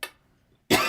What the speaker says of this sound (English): sorry, I'm going to try not to cough.